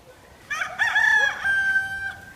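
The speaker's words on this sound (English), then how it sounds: "That's the rooster that sounds so pitiful." A single rooster crows once nearby, a strained, drawn-out call that trails off, in an otherwise quiet setting.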